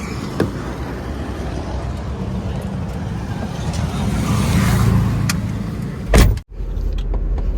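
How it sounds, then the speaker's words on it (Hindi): A car drives along a road on a trip toward Rishikesh, giving a steady interior rumble of engine and tyres, with a sharp bump or thump near the end before the drone continues. "चलो जी, एक बार फिर हम चलाएंगे गाड़ी।"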